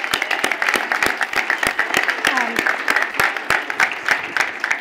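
Audience applause at a university gathering, Chancellor Marks' Future Fest 2021 on campus: dense, steady clapping from a crowd lasting the whole stretch, fairly loud and close, with no voices over it.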